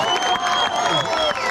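Crowd noise from fans in the stands at a high school football game, a dense steady roar of cheering and shouting with a sustained whistle-like tone running throughout.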